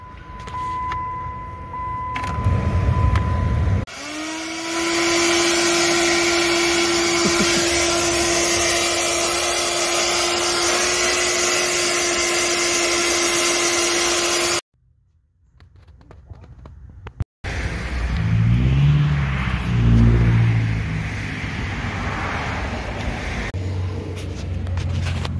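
A supercharged Dodge Viper engine runs on a test with a steady, loud drone and a high whine for about ten seconds. It cuts out abruptly, then a rougher running noise with fluctuating tones follows.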